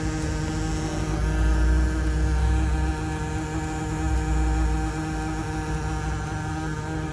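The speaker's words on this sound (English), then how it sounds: "That's the AC." Air conditioner running inside a bakery, a steady broadband whoosh with a low humming drone and faint tonal whine, continuous and fairly loud with slight swells.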